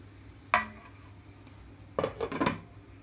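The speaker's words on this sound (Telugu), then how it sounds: "ఈ కర్రీకి మూత పెట్టేస్తున్నాను" A lid clatters onto a pan of tindora and chana dal curry: one sharp metallic clank, then a quick cluster of rattling knocks as it settles, close by over a quiet kitchen hum.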